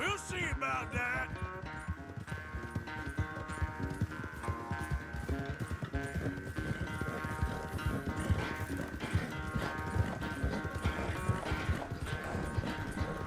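Dutch's horse gallops in Red Dead Redemption 2, steady rhythmic hoofbeats running under game music and a voice throughout.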